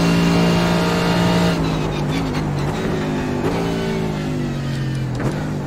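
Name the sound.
race car engine on the Nürburgring in iRacing video game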